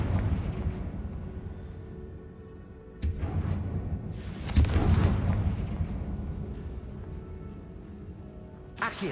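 A Confringo blasting spell going off in the Hogwarts Legacy video game, a few sharp booming bursts with rumbling tails, loud and near, separated by quieter stretches of game ambience.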